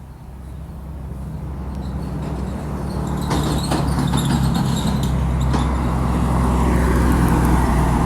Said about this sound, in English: There's a dump truck going.